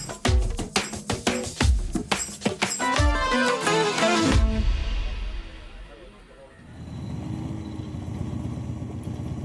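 Thousands of motorcycles on a large charity group ride, engines revving loudly in bursts as bikes pass nearby, followed by a steadier rumble of idling and cruising engines, with talk heard over the later part.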